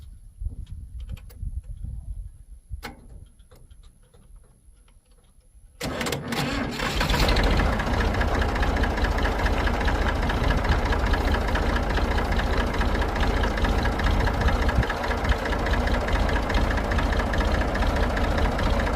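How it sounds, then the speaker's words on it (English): A Massey Ferguson MF245 tractor engine cranks and catches after a few quiet seconds, then settles into a loud, steady diesel idle that runs on evenly to the end. "So let's get this tractor fired up and we'll head that way."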